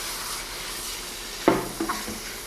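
Chicken with soy sauce and ground pepper stirred in a frying pan for fried rice, a low steady hiss followed by a few close scraping clatters of the spoon in the last second, no voices.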